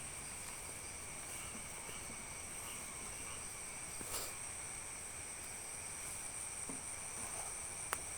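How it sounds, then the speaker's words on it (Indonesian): Crickets chirp in a steady high-pitched drone, faint and continuous, in a forest at night, with a few soft clicks and no talking; no frog calls stand out. "Terdengar banyak suara katak bernyanyi, jangkrik berbisik."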